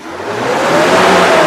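A 2005 Toyota Innova 2.0 automatic, engine warm and fitted with a TAP part, revs hard up close: a loud engine roar that climbs steadily in pitch and volume.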